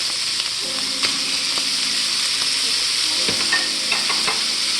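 Chorizo sizzling and spitting in a hot pan while being stirred, a steady crackling fry with occasional scraping knocks of a utensil, close and continuous without talk.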